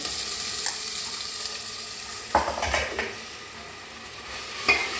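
Ginger garlic paste fries in a cauliflower and potato curry, giving a soft continuous sizzle with a few distinct spoon scrapes against the pan. No one speaks.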